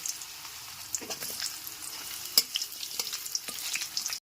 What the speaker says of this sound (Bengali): ফোড়নটা হালকা করে ভেজে নেওয়ার পর কেটে রাখা আলুটাকে আগে দিয়ে দিচ্ছি